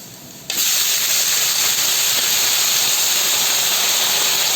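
Chopped red chili hitting hot oil in a pan for aloo palak sets off a sudden loud, steady sizzling hiss that starts abruptly and holds evenly to the end.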